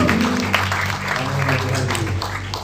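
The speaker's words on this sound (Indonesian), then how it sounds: "Tepuk tangan dulu dong." Audience at a Christmas celebration gives a burst of applause, dense clapping that stays steady and fairly loud for a few seconds, with a low musical hum running underneath.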